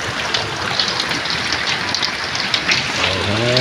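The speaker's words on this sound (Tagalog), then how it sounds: "medyo humina naman yung ambon" Steady light drizzle pattering on surfaces outside a hut by the sea, a continuous soft hiss of fine raindrops with no voices.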